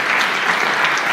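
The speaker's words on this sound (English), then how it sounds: "Clap for that." A crowd at a motivational talk gives dense, sustained applause. It is loud and fills the whole short moment, with no voice over it.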